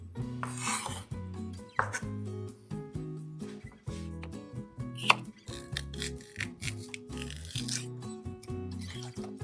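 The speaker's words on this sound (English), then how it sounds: "Cut your onion and green celery very fine." A knife chops onion and celery finely, rapidly and repeatedly on a board, crisp rhythmic cuts with short pauses, close and fairly quiet.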